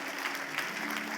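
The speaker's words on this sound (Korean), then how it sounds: "우리 박수로 한번 환영해 주시면 감사하겠습니다." Church congregation applauding to welcome two members back to in-person worship, a steady, moderately quiet patter of hand claps lasting about a second.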